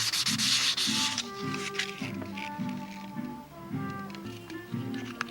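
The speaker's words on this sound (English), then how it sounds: "just a little hit with 600 sandpaper" A part for a Windy U cockpit being hand-sanded with 600-grit sandpaper, steady close rubbing strokes with a repeating back-and-forth rhythm, alone without talk.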